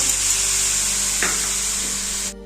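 Paneer bhurji masala frying in a pan as chopped tomatoes go in: a loud, continuous hiss and sizzle with a brief scrape midway, cutting off abruptly just before the end.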